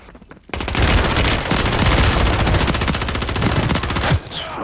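Rapid automatic gunfire from the video game Call of Duty, a loud, dense stream of shots running steadily for about four seconds after a brief quiet start, then cutting off.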